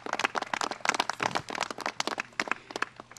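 An audience at a political event honoring a Senator breaks into applause, a dense crowd of hands clapping in rapid, irregular rhythm, close and steady throughout.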